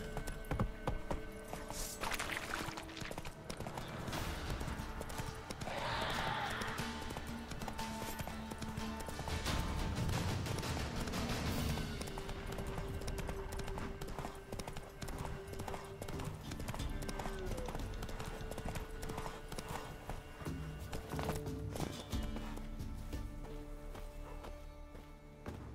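Horse hooves galloping in The Witcher 3: Wild Hunt, a steady rapid clip-clop rhythm lasting throughout, mixed with music and ambient game sounds, with a brief spoken line and a snort or whinny along the way.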